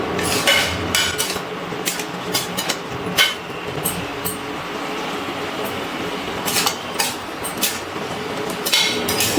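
Pineapple chutney stirred in a metal pot, a spoon scraping and clinking against the sides in irregular bursts over a soft simmering hiss, close and moderately loud.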